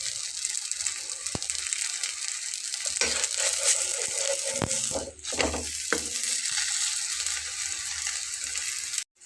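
Lentil and flour snack batter frying in hot oil in a pan, a steady dense sizzle throughout with a few faint clinks and stirring touches, close and continuous.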